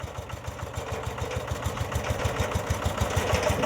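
Tractor engine running steadily nearby, its low chugging pulse firm and rhythmic throughout, with a faint rise toward the end.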